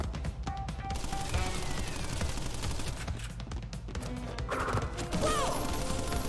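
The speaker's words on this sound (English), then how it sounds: "Right, okay, I know how to avoid the gunfire." Enemy gunfire in the Crash Bandicoot video game, a dense, continuous barrage of game shots and impacts layered over busy music and effects, loud throughout with no talk.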